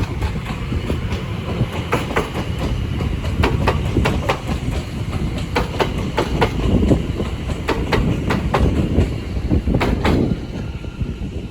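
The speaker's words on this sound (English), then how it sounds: "Now departing is the 1423 London Overground service from Watford Junction to London Euston." A London Overground Class 710 electric train departs Bushey on the West Coast Main Line. It rolls past loud and close with a rumbling drone and a regular clickety-clack of wheels over rail joints, with no voices.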